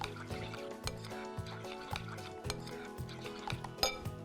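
Grated garlic being stirred into a pan for an Indian-style sauce, a steady run of scraping stirs with clinks of a utensil against the pan over background music.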